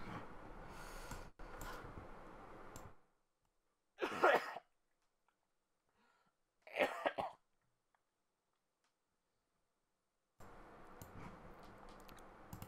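Two short, sharp coughing bursts from one person, close and loud, separated by silence, with muffled background noise before and after.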